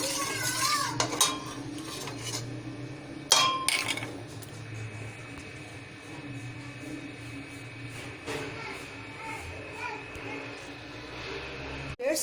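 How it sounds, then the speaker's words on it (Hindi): Melted soap base and acid are stirred in a pot, with repeated metallic clinks and scrapes of a utensil against the pot. A few sharper knocks punctuate the steady mixing. "अब मैं इसको बहुत अच्छे से मिक्स करूंगी"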